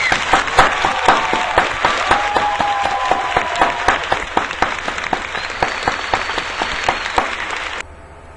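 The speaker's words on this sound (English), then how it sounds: "Let's give them a round of applause." A large audience claps loudly and continuously for several seconds, a dense steady applause that cuts off abruptly near the end.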